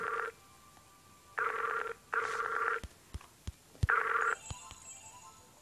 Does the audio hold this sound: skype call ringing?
yes